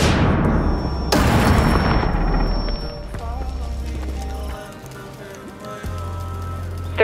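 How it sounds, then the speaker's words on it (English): A stun grenade goes off in the mobile shooter Rainbow Six Mobile: one sharp, loud blast followed by a thin, high ringing tone that lingers for a few seconds over low rumbling game noise. "Stun grenade."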